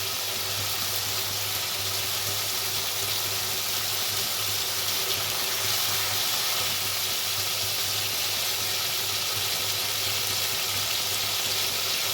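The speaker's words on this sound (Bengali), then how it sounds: "এবার মশলাটা আমি একটু ভালো করে কষিয়ে নেব।" A spice paste seasoned with salt, sugar and chilli is fried and stirred in a pan for a Bengali banana-blossom dish. A loud, unbroken sizzle carries on evenly throughout, with no talking.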